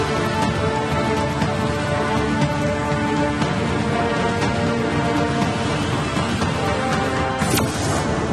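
Heavy monsoon rain pours steadily in Mumbai over flooded roads jammed with traffic, a dense, loud, continuous hiss of downpour with no voices.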